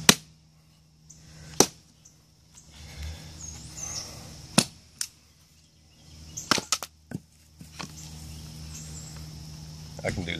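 A Harbor Freight survival knife is driven into wood to split it, giving a series of sharp, close wooden knocks and cracks at irregular intervals, with a cluster of quick strikes midway and quiet handling noise between.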